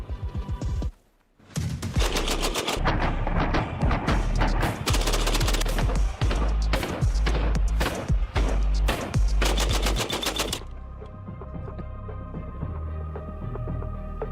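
An AA-12 automatic shotgun fires long, heavy, booming bursts of rapid shots at close range for about nine seconds, with brief pauses between volleys, then a ringing, echoing tail as the firing stops.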